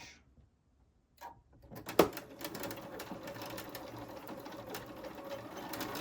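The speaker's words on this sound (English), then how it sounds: "I'm going to stitch that at 1/4 inch" Sewing machine running a continuous fast stitch on quilted sneaker lining pieces at a quarter-inch seam, starting after a brief click and holding a steady mechanical whir close by.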